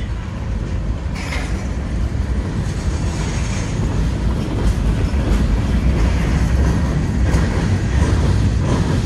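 Freight train M364 rolls past a crossing at Game Farm Rd in New Scotland with a distributed-power locomotive at the rear: a steady, loud rumble of wagons with rhythmic clickety-clack of wheels and occasional faint squeals, no talk.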